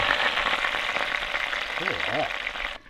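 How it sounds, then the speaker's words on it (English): Dinner sizzles on the stove inside a Traxx Series 4 caravan, a constant hissing fry close by, with a brief voice sounding over it near the end. "Should we check dinner? I reckon so, because it is sizzling."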